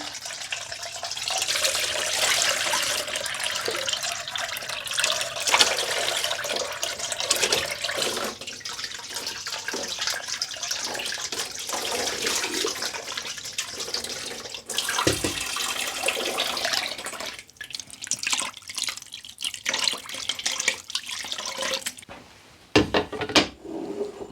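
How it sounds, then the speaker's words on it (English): Water pours and splashes steadily into a basin as it is drained off fresh butter, for about twenty seconds, with a few soft knocks and clinks near the end. "And just pour off that water."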